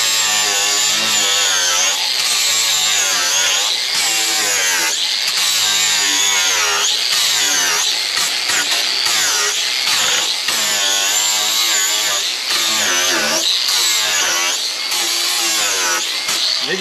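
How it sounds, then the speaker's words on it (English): A power tool fitted with an 80 grit flap wheel grinds the surface of a wood beam to distress it, giving a loud, continuous whine that wavers in pitch as it bites into the wood, with no talking. "this is probably an 80 grit flapper wheel, and it really works really good."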